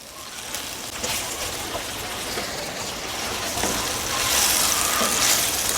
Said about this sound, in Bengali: এই কয়েক সেকেন্ডের মধ্যে এটা ফুটে উঠছে।